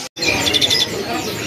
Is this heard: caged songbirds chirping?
yes